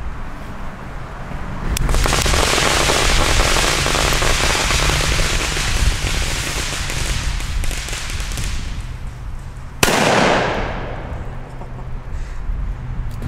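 Pyro Union Kanonenschlag German firecrackers bang loudly outdoors, each sharp blast followed by a long roaring, crackling rumble that slowly fades before a second close, powerful detonation cuts in.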